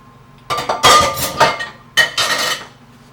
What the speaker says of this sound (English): let's just go ahead and transfer that to our pie dish there